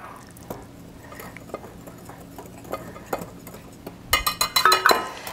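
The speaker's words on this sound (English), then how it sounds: "So the first thing I'm going to do is just mix up the dry ingredients." Dry whole wheat flour ingredients being stirred in bowls: soft, scattered scrapes and light taps of a utensil against the bowl, ending in a burst of louder clinks and rattles, with no one talking.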